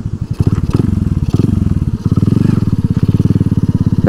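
A Honda C70 motorcycle fitted with a Supra engine is being ridden, its loud, close single-cylinder exhaust thumping in a rapid steady pulse that rises and falls with the throttle.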